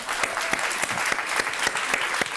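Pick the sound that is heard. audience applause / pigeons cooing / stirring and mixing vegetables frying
audience applause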